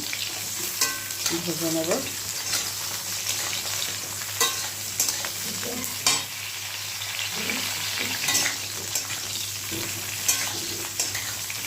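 Eggplant frying in a pan for a yogurt eggplant dish, a dense continuous sizzle broken by frequent spatula scrapes and clinks, close and fairly loud, with no talking.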